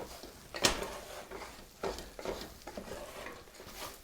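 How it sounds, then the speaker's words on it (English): A utensil stirs flour cooking in a pot for Swiss barley soup, giving a few soft scrapes and light clinks against the pot, quiet and close with no talking. "So I'm going to mix that around."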